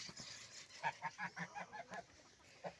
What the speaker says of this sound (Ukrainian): Мої гусачки їдять